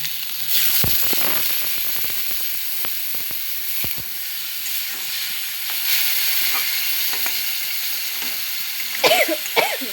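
Potato and pointed gourd curry frying in a pan, a steady sizzle and hiss running throughout with scattered crackles and stirring clinks, close and moderately loud, no talking.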